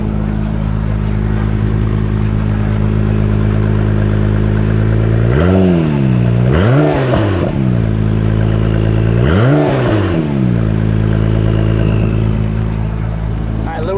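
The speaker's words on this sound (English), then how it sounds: "Let me just get a little exhaust out on sport mode." A 2017 Acura NSX engine drones steadily, then revs hard three times in sport mode with rising and falling exhaust roars, loud and close.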